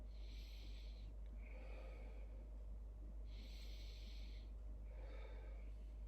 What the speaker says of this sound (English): chest breathing